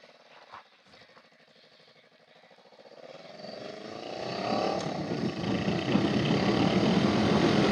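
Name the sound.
Honda Rebel 500 motorcycle riding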